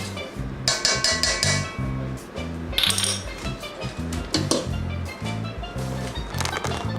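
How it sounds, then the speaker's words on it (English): A spoon stirs coconut milk in a metal pot, giving a steady run of clinks and scrapes against the pot over a low rhythmic background hum, with no talk. "you add 2 tablespoons of coconut milk. And give it a good stir."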